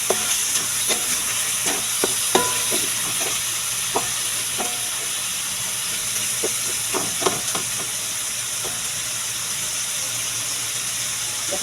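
Fatty pork belly fries in a pan with ginger, garlic and onion, giving a constant hissing sizzle punctuated by sharp clicks and spatula knocks from stirring, close up with no voices.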